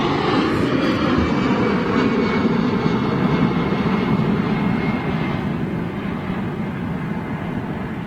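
Loud, steady roar of an airliner with CFM56 engines taking off at London Heathrow, a broad continuous rumble that fades only slightly across the span, with no voices.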